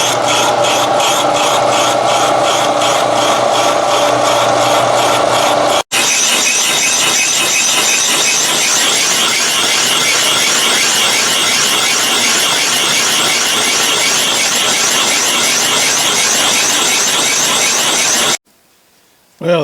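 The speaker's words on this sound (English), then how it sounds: "I'll just let that bore out until it cleans up." A lathe bores out a hole in metal, cutting a part for a Lauson DeLaval Type VW engine with a continuous, gritty machining whir and fine rhythmic chatter. It runs loud and close with a brief cut early on and stops abruptly near the end.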